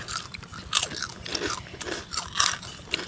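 Close, crunchy chewing of spicy Thai papaya salad (som tam), a series of irregular crisp bites and crunches in fairly quiet surroundings with no talking.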